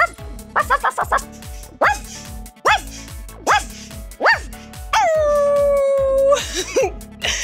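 Several people imitate a dog, giving short rhythmic vocal barks and then a long drawn-out howl, loud and near, with background music playing throughout.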